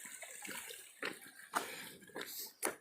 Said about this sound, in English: crossing the creek.